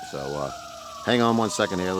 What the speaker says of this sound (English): I apologize about the sirens in the background there.